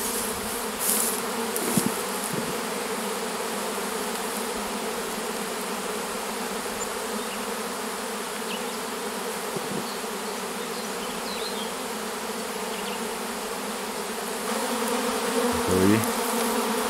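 A large honeybee swarm buzzes continuously around a hive outdoors, a dense steady drone close by, rising a little louder near the end with some brief nearby rustling.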